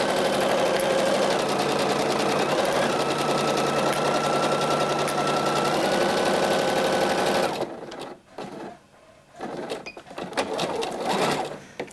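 A sewing machine runs a seam on a skirt, whirring steadily and rapidly for about seven seconds before stopping, then short bursts of backstitching and handling noises follow.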